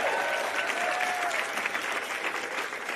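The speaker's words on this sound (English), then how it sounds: "Let's give another round of applause to all of the second place" Steady audience applause at an award ceremony for a Braille competition finals, filling the space continuously with a faint voice briefly audible within it.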